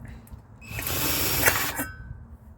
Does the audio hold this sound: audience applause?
no